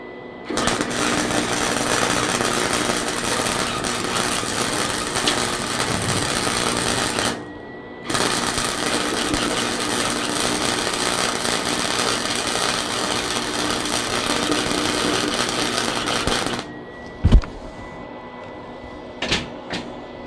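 Flux core arc welding on a workpiece gives a loud, steady crackling buzz that runs for about seven seconds, stops briefly, then resumes for roughly nine more seconds before cutting off, followed by a few sharp clanks.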